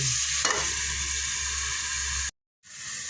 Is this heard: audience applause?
no